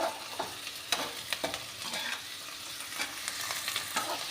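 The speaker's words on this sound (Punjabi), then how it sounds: "ਨਾਲ ਦੀ ਨਾਲ ਆਪਣਾ ਜੀ ਤੜਕਾ ਵੀ ਹੋ ਰਿਹਾ ਤਿਆਰ" Tadka tempering frying in a pan while making a vegetable curry with drumstick flowers and potatoes, a steady broadband sizzle with scattered crackles and pops and occasional scraping stirs, close by with no voices.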